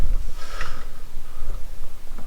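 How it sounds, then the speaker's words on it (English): Thick differential fluid gulps and burbles as it drains from the rear diff of a Corvette C6 Z06, a close, irregular series of glugs with wet air-gurgling pulses. "But you can hear it gulping right now."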